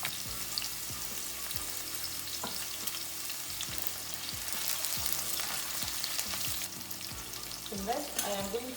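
Chopped onion frying in hot oil in a pan, a dense steady sizzle with soft scraping stirs repeating throughout, close and moderately loud with no speech.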